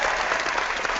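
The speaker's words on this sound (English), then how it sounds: "Let's get a little clapping for that." A studio audience claps steadily through the whole second during an online expert Q&A show, dense continuous applause with no pauses.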